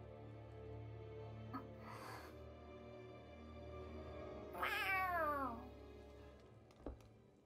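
A cat meows in the video game Tales of Arise, with one clear drawn-out meow in the middle of a quiet forest scene, with a few soft thumps around it and no talk over it.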